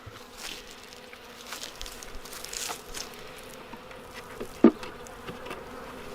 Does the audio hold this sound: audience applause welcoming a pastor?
no